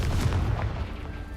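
Confringo blasting spell explosion in the Hogwarts Legacy video game, a loud, deep rumbling boom that fills the whole short moment without a break.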